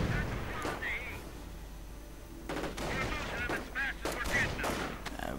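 Strategy video game battle of grenadiers firing on riflemen, with crackling bursts of rifle and machine-gun fire and distant explosions under an excited commentator's voice.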